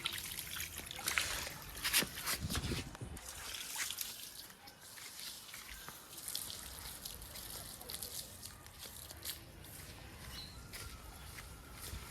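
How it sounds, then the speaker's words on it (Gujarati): Water trickles and splashes as tomato and chili plants are watered in a village home's front yard. The flow is faint but steady, with occasional footsteps and light sloshing nearby. "કામ કરતું જવાનું ને ઝાડવાને પાણી પીવડાવતું જવાનું"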